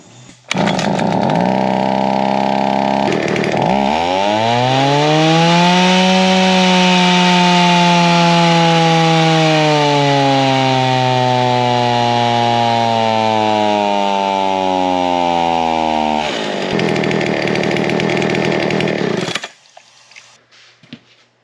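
Old 55cc and 65cc chainsaws roar loud and close, engine pitch bogging and rising as they cut through wood, then idling down and stopping.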